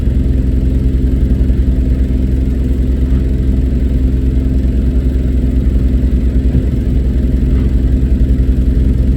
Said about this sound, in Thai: เครื่องยนต์สี่สูบสี่จังหวะครับ เครื่องยนต์เปอร์กินครับ